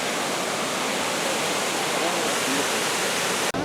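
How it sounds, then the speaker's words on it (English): Hoopii Falls on Kauai pours in a loud, steady, close rush of falling water, a dense unbroken roar that fills the whole stretch with no pause. "So it looks like we made it here to the waterfall"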